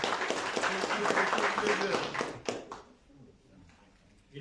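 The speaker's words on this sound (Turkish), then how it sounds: "Alkış bile aldım." Audience applause at a Turkish talk about reactions to a censorship law, a dense burst of clapping for about two and a half seconds that fades out, with some voices and laughter mixed in.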